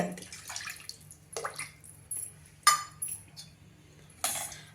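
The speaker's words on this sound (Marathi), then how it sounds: "मी साधारण चार ते पाच वाट्या एवढं पाणी घालणार आहे" Water is poured into a pot of rice for onion pulao, several separate splashing pours with clinks of a metal vessel between them, close and fairly faint, with no talk.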